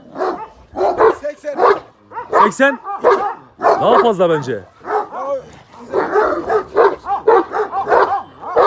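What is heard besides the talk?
dog barking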